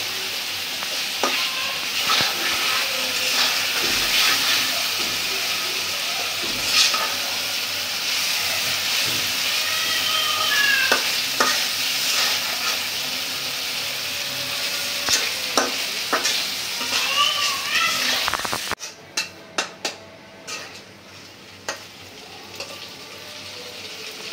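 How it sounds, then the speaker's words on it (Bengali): Surma sea fish sautéing with spices in a hot pan, a steady loud sizzle with scraping stirs throughout, ending in a few sharp clinks as the frying fades. "মশলার সাথে মাছগুলো একটু কষাই নেব হালকা করে।"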